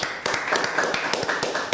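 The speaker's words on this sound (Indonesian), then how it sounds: "Tepuk tangan dulu dong" Audience applause at an Indonesian talk show, a steady wash of many hands clapping with sharper individual claps standing out, lasting under two seconds with no talk over it.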